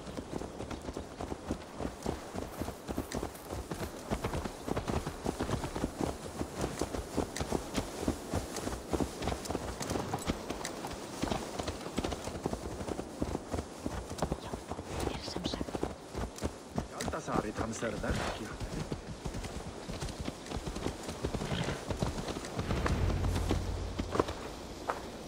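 Horse hooves clip-clop in a steady walking rhythm in the video game Assassin's Creed Valhalla, close and continuous for the whole stretch, with game dialogue spoken over them.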